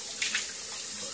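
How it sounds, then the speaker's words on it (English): Bathroom tap running for a quick cold water rinse after a wet shave, a steady close hiss of flowing water with a couple of brief splashes near the start. "Let's just go ahead and do a little quick cold water rinse."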